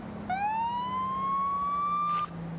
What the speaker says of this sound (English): Forgot that's my siren.